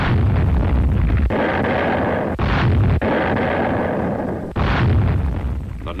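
Naval guns firing during a wartime invasion, heavy booming blasts that roll into one another and fill the scene with loud, dense, continuous rumble and crackle.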